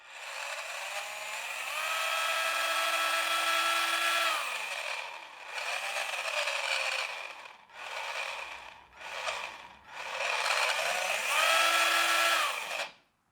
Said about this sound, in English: you can listen to this drill run